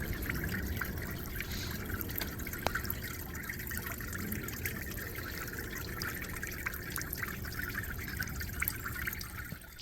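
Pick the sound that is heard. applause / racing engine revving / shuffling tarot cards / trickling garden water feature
trickling garden water feature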